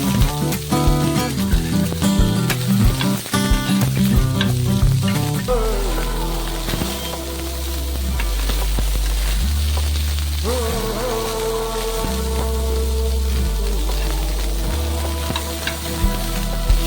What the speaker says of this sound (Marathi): आता मी ह्यामध्ये कांदा ऍड करते। ह्याला पण छानसं रोस्ट करून घ्यायचं आहे,